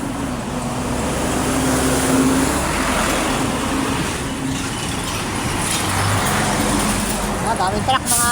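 Heavy afternoon traffic on Maharlika Highway with trucks rolling past, a loud, continuous engine rumble and tyre roar close by, with a person speaking over it.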